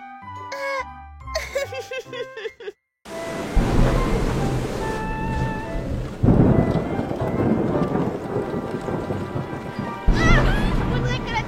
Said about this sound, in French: Faudrait que la tempête s'arrête.